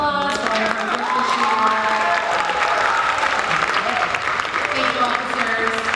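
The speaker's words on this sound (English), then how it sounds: "let's give them a round of applause" Audience at a school spring orchestra concert applauding the orchestra officers, sustained crowd clapping with voices talking over it throughout.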